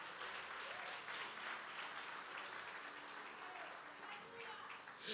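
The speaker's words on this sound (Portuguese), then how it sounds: "Aplaude bem forte a Ele," A church congregation applauds together during a Portuguese-language sermon, a steady broadband wash of clapping that holds at an even level throughout.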